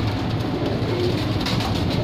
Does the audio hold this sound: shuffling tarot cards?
no